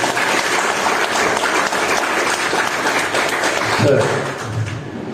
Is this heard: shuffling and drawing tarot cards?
no